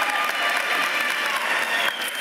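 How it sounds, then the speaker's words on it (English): An audience applauds steadily at the Middlesex Community College 2023 commencement, a dense wash of many hands clapping at a moderate distance throughout. "Can we please give a round of applause to those who've earned their degrees"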